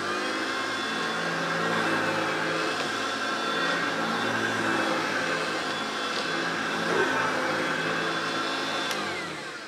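An old self-propelled Hoover upright vacuum cleaner runs while being pushed, a loud, steady motor drone with a constant high whine that holds throughout.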